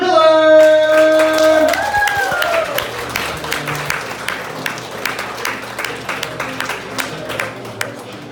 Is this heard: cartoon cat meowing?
no